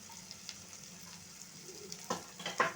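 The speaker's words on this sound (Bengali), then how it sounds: "মশলাটা আমি ভালোভাবে কষে নেব" Spice paste of ginger, chilli powder and turmeric with onion frying in a pan for hilsa curry, a soft, quiet sizzle with a few louder stirring scrapes near the end.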